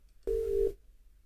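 A single steady electronic tone sounds once for under half a second from a forwarded extension on an Alcatel OmniPCX Enterprise phone system, clear and close with near silence around it.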